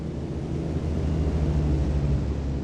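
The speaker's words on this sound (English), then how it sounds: "Yeah, that is definitely a real sounding airplane." A propeller airplane engine drones steadily in the RealFlight 7.5 flight simulator game, a continuous low rumbling hum that swells slightly as the aircraft passes, heard alone with no talk.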